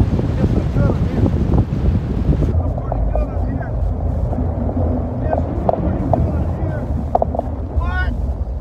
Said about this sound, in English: You can hear that wind blowing.